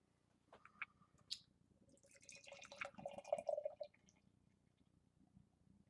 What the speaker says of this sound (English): let's go ahead and crack this bad boy open, give it a pour